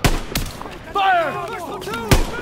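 Gunshots in the World War II shooter game Call of Duty: WWII ring out in a few sharp, loud bursts at the start and near the end, with a voice talking between them.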